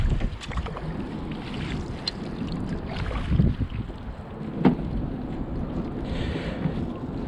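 Kayak paddling on a river current near Waldport, Oregon, with soft water swishes and paddle strokes spread across the clip under steady wind noise buffeting the microphone.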